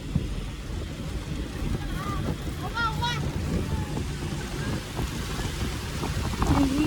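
First rain of the season falling outdoors during a village temple fair, a steady dense patter throughout with voices talking over it.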